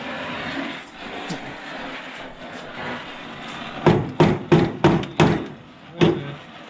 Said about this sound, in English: Try hammering down there.